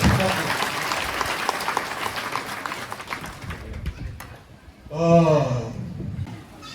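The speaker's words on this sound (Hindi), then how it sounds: "जोर से थापड़ी ठोका चिया जोर से" Loud clapping from the audience at a parish celebration, a dense burst of applause that fades after about four seconds, followed by a short spoken voice.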